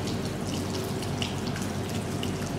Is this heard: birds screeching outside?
no